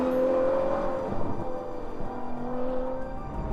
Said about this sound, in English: That glorious noise that you can only get from a naturally aspirated V12.